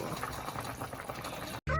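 A steady bubbling, simmering wash of a pot of ginataang tulingan, tuna stewed in coconut milk, boiling up close, continuous for most of the clip before a brief cut to a louder burst.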